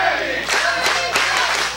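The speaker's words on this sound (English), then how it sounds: "Listen to this crowd." Wrestling crowd cheering and roaring in a steady wash of voices, with a couple of louder swells of noise rising above the din.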